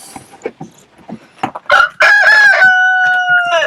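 Chickens in a backyard coop: soft clucking at first, then a loud, close rooster crow that rises and holds over the last couple of seconds.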